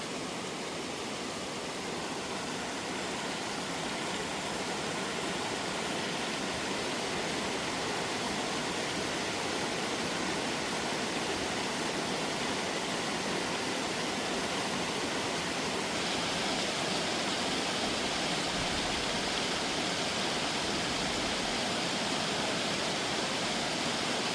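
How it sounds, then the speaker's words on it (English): A small waterfall in the Great Smoky Mountains near the Little Pigeon River gives a steady, broadband rush of falling water, constant and fairly close, with no voices over it. "Amazing little waterfall."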